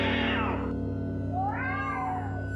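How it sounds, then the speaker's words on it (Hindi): A cat lets out two drawn-out, wavering meows, the second rising and falling, fairly close with steady background hum. "काली बिल्ली दिखाई देती है और जोर जोर से रोने लगती है।"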